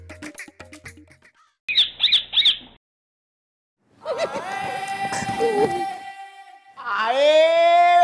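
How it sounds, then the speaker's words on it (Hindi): A parrot gives three sharp, close squawks in quick succession, followed after a pause by longer, warbling, drawn-out calls. "होगी तोते से दोस्ती।"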